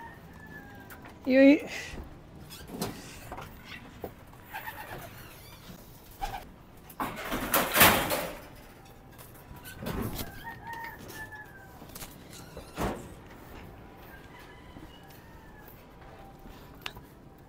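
A gamecock just after bathing clucks and gives a brief crow among scattered thumps and handling noises, with someone talking intermittently nearby.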